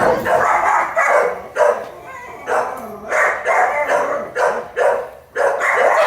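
A big, gentle dog gives a series of repeated barks in fairly loud bursts, close by, with short gaps between them. People talk nearby.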